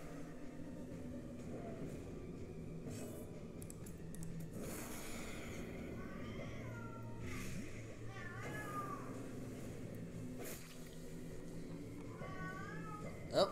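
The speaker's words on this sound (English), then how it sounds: "Oh, the kitties are here." Several cats meowing in the game Darkest Dungeon, wavering mews rising and falling over a dense, rumbling background of music and ambience, moderately faint, with someone talking at times.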